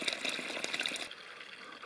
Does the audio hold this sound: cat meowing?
no